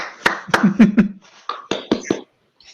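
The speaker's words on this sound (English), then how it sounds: "Yeah, clap, Bart, go." A few people in an online seminar clap in a short, sparse burst of distinct hand claps, close to the microphone, alongside brief voice sounds.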